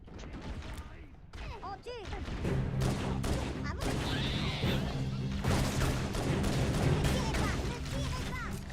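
Rapid bursts of gunfire and explosions in the video game Halo: Reach, a dense, continuous barrage that grows louder and sustained after a brief quieter opening.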